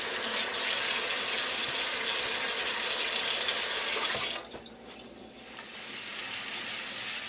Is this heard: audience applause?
no